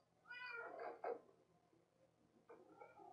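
A cat in Minecraft Story Mode meows twice in close succession, a drawn-out plaintive call then a sharper one, followed by another meow after a short pause, near and fairly clear.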